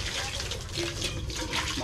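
Water pours and splashes steadily into a pot for boiling sweet potato leaves, a close continuous gushing that runs the whole time with a voice talking faintly alongside.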